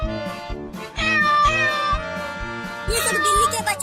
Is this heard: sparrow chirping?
no